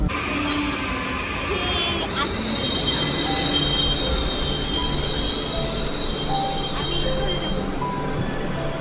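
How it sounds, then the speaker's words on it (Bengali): A metro train pulls slowly into a station, a loud, steady rumble filling the platform with high, drawn-out wheel squeals on the rails rising above it throughout. "মেট্রোটা স্লো আসছে, এত দূর আসবে না।"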